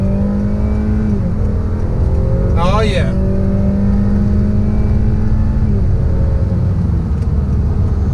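A Honda Accord Touring launches from a dead stop, engine note rising in a steady loud drone with a brief tire chirp from wheel spin, heard from inside the cabin as a person speaks briefly.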